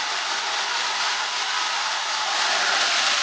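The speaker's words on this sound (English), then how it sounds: "It's a professional hair dryer" A professional ionic hair dryer with a diffuser runs continuously as a loud, steady, close-up airy whoosh with no voices.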